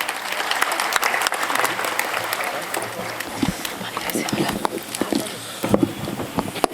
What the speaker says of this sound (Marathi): टाळ्यांचा आवाज येऊ द्या.